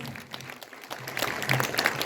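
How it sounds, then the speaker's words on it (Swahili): Audience applause for a bishop at a church gathering: a dense, steady patter of many hands clapping together, fairly close, with a brief dip before it swells again. "Tupigie Bishop wetu makofi mazuri"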